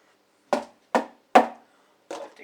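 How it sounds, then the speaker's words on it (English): A plastic Tupperware container is knocked against the edge of a kitchen sink to shake off water, giving three sharp, close knocks about half a second apart, then a fourth slightly softer hit after a short pause. "Like to hit it on the edge of the sink, get rid of the water."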